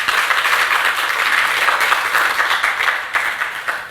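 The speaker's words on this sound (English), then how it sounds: "Thank you all, ladies, for joining us tonight, and a big round of applause." An audience at an evening panel event applauds, with steady and fairly close clapping from many hands that continues throughout without talking.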